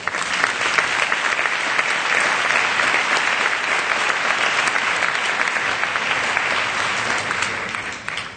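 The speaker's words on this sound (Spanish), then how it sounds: "recibamos con un fuerte aplauso" Loud, sustained applause from a packed audience at a marketing conference, welcoming a professor to the stage; dense, even clapping fills the whole stretch without pause, close and full, with no speech over it.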